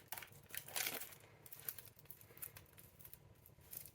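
Plastic wrap on a new tarot deck crinkles and crackles as it is opened, close and fairly quiet, with a busier burst of rustling early on before it settles into light intermittent crinkles.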